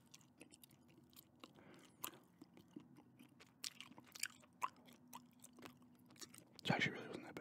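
Gum chewing close to the mic in a quiet room, a run of soft irregular wet smacks and crunchy bites with a louder burst of mouth noise near the end.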